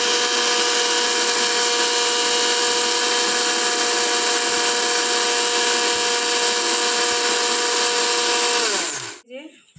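A mixer grinder whirs steadily at full power, grinding poppy seeds and spices into a paste for a cauliflower, pea and paneer dish, a loud continuous whine that runs for about nine seconds before cutting off abruptly.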